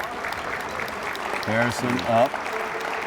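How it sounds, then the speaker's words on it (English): Crowd applause in a gym at a girls' high school basketball game, a steady moderate patter running under a commentator's voice throughout. "Gets the round of applause as Michelle Kelly shepherds her off the floor"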